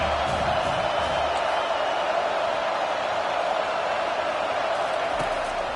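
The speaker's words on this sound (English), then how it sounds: "Decibels rising as the crowd gets behind this defense on third down." A football stadium crowd cheers on third down, a dense, loud, sustained roar holding steady throughout with no breaks.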